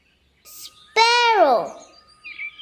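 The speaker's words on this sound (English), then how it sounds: "SPARROW." Sparrow chirping: a single bright, harmonic call rising then falling, loud and close, following a shorter faint burst, with soft chirps trailing after.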